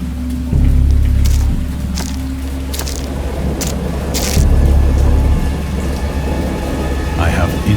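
Storm ambience from the video game Dagon: steady rain hiss with a low rumble of thunder rolling through, a couple of deeper swells, no voices.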